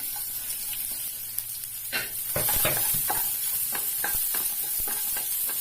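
Chopped onion hits hot oil in a pan and sizzles with a bright, steady hiss while a spoon scrapes and stirs in irregular close strokes, for a potato curd curry.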